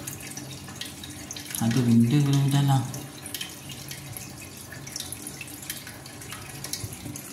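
Water running and gurgling through a clogged sewerage pipe outlet, a louder rushing burst for about a second in the middle over faint background noise, with people talking in Malay.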